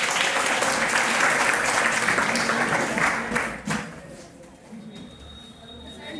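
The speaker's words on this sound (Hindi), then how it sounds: "ताली बजाओ सवाल पूछने के लिए।" Loud audience applause from students at an educational seminar fills the room for several seconds, then tapers off into quieter room noise.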